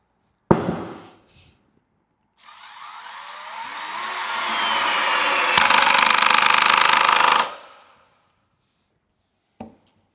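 A budget cordless screwdriver drives a screw into wood, its motor whirring up and rising into a loud, grinding buzz for about five seconds before stopping abruptly, with a sharp clack at the start and a brief tap at the end.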